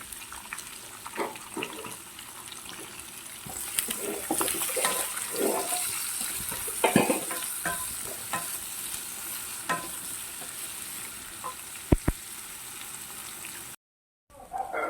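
Ingredients with a pinch of salt sauté in a pan for beef curry, a close sizzle under repeated spoon scrapes and stirring clatter that grows busier midway, with a brief silence before the end.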